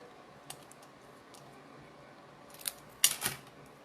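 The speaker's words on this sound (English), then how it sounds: "We're just gonna give it a little snip." Scissors snip through paper while making a handmade card, a few faint, sharp crisp cuts, one early and a cluster of quick snips near the end, against a quiet room.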